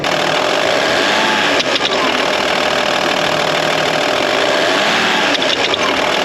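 A twenty-year-old Audi engine with worn cams held at about 2000 RPM gives off a harsh, loud, rattling mechanical clatter over a steady running drone, close and continuous, with a couple of sharp knocking bursts.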